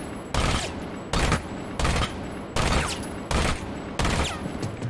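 Five loud bursts of Ela's Scorpion submachine gun fire in Rainbow Six Siege, each lasting about half a second to a second and separated by short gaps, heard alone without talk.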